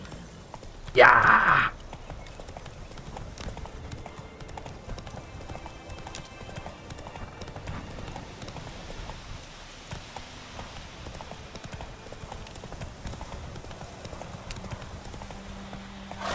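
In The Witcher 3 video game, a horse sets off at a gallop with a steady run of hoofbeats and a brief loud burst near the start. Hoof clip-clop continues at a moderate level, and a voice briefly speaks.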